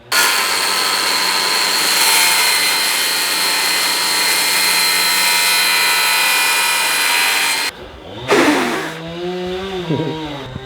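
A circular saw runs along a clamped guide through a pre-measured sheet during a tiny house trailer build, a loud sustained whine for about eight seconds before cutting off abruptly, followed by a brief spin-down and faint sounds.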